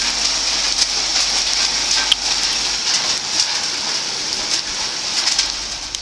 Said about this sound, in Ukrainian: Почався у нас дощик такий